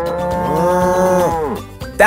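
A person imitates a cow, giving one long, loud, drawn-out moo that bends in pitch and then trails off, nearby and alone, for a preschool field-trip game of guessing animals.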